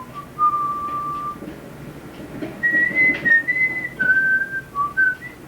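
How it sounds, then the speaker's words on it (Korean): A composer whistles a melody alone, clear sustained notes that slide between pitches, a long held tone followed by a run of shorter phrases rising and falling. "오선지의 음표들은 먼저 선생의 휘파람으로 세상의 빛을 본다."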